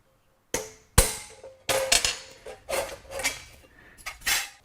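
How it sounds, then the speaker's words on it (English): A hammer taps a metal transfer punch to mark a hole center on an aircraft fuselage part: several sharp, close metallic clinks at irregular spacing, each ringing briefly before the next, with no talk. "I'll use a transfer punch to mark the center of the first hole"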